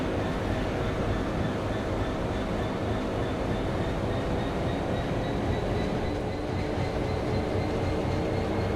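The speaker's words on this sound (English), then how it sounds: "Oh, I thought I heard one. Oh yes I did. There it is. 390. Pendolino." Class 390 Pendolino train passing by, a steady loud rumbling roar that holds constant throughout with no talk.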